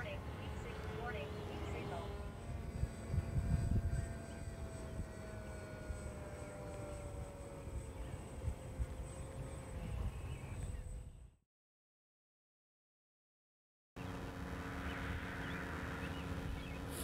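A 3DR Aero fixed-wing UAV drone circles overhead with a steady, distant propeller drone that carries on for about eleven seconds, then cuts out briefly before returning.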